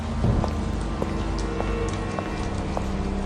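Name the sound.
heavy rain, sound effect in animated story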